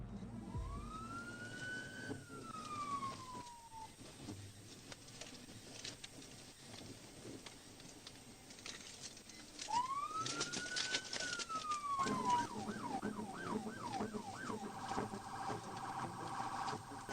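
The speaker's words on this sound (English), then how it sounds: "That was all it took for the trooper to hit the lights and sirens," Police car siren wailing during a motorcycle chase, rising and falling in long sweeps, then switching to a fast yelp pattern, moderately distant against road and wind noise.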